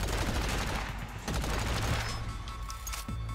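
A close-range machine pistol in the video game Agents of Mayhem fires a dense, rapid burst of gunshots that keeps going, loud and continuous, with no talk.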